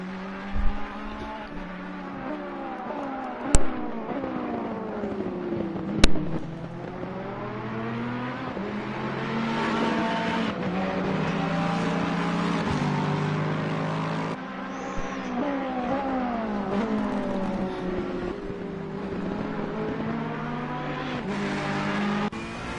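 Several race car engines from the NXTGEN sim racing series at the Hungaroring, including the number 888 Ferrari, roar continuously with shifting pitch as cars rev and pass, with two sharp impacts early on and a steady loud engine drone throughout.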